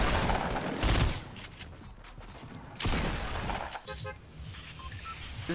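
Video game gunfire bursting in loud, rapid volleys around the first and third seconds, with beeping tones and clatter between bursts and a voice speaking over the action.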